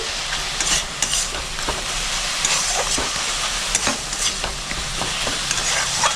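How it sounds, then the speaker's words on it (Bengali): Peanuts are stirred into red spinach frying in a pan with poppy seed paste. A constant close sizzle runs throughout, broken by frequent scraping stirs of a spatula. "বাদামটা দিয়ে আমি ভালো করে মিক্স করে নিচ্ছি।"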